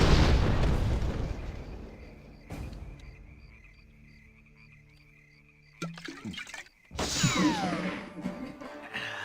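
Cannon blasts in a cowboy video game: after a stretch of quieter game ambience, a sharp deep boom bursts out near the end, followed by crashing, rumbling debris, loud and close.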